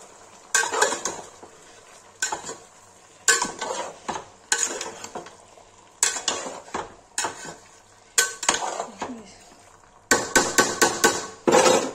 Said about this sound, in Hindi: इसमें दही डाल रहा है। चला देंगे।